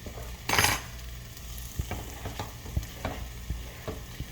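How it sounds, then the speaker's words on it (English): A small whisk stirs tofu flavoring in a bowl, making light repeated taps and scrapes in an uneven rhythm. A brief louder clatter comes near the start, and the sound stays close with no talking. "this is kind of like a little whisk that I use to whisk the flavoring"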